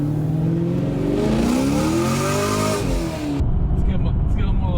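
A car engine revs hard and rises in pitch through several climbing sweeps, loud and close, then drops to a rougher steady rumble; voices talk over it.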